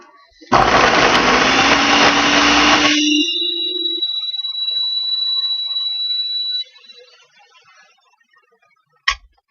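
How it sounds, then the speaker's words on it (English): A loud blender blending banana nice cream whirs for a few seconds, its motor whine rising in pitch, then spins down and stops, followed by a brief clatter. "Now I'm going to go ahead and blend it. It's going to be really loud for a second."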